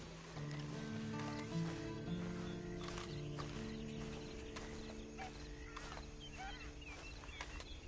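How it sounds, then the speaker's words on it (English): Faint horse hoofbeats clip-clop in the video game Red Dead Online, scattered under sustained background music tones. "Then you better get on this horse."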